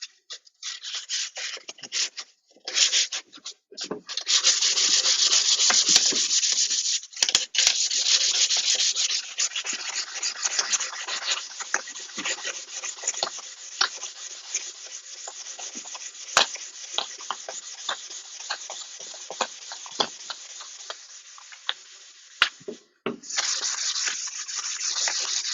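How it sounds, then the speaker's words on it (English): Sanding and smoothing a wooden ukulele neck after the fingerboard has been joined, a steady close abrasive rubbing that runs almost without a break, with brief pauses near the start and again just before the end. "Joining the fingerboard to the neck and smoothing out the neck."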